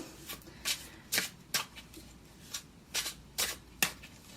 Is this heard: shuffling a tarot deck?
yes